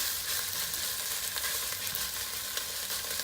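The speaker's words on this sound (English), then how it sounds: "just whisk it around like this" Bolognese sauce mixture stirred and whisked in a hot pot, with a steady loud sizzle and frying hiss throughout and light scraping of the whisk, close up with no talking.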